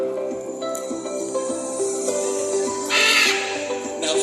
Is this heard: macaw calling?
yes